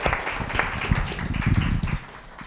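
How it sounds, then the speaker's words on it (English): An audience applauds at the opening of a course, the clapping dense and steady for about two seconds before it thins out. "we would like to make a very, very high and loud applause for you."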